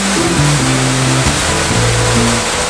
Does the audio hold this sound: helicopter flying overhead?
no